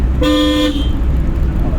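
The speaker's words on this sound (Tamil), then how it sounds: "ஹார்ன் அடிச்சுக்கங்க" A single car horn honks for about half a second over a steady low engine rumble, close by and loud, inside a driving-school car.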